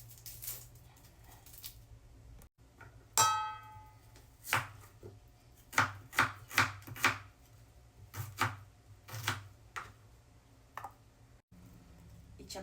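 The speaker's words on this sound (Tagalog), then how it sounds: "Hiwain na rin natin yung sibuyas." A knife slices through a red onion on a cutting board, a series of crisp, close thuds and clicks in an uneven rhythm, roughly a dozen strokes spaced over several seconds in a quiet kitchen.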